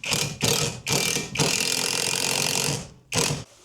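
A ratchet fitted with a number 10 socket clicks in quick bursts of rapid pawl ticks while a garage storage rack is being installed, with short pauses between the turns and one long stretch of ratcheting.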